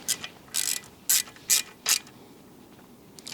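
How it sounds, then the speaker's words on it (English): A T30 Torx bit ratcheting as it tightens the bolt of a new kickstand on a BMW 1250 GS Adventure motorcycle, several short, sharp clicking bursts in a quick irregular series, close and alone. "once again with the T30 Torx bit"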